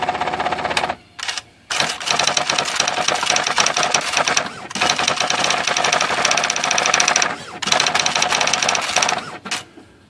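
An IBM Wheelwriter 6 electronic typewriter, just repaired with a new plunger pad on its hammer solenoid, prints in long rapid bursts of clattering strikes and carriage whir, loud and close, broken by brief pauses.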